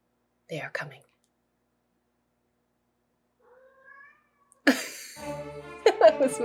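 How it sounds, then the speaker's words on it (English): A pet cat lets out a short, faint meow in a quiet room, after which a person starts talking over background sound. "That was my cat."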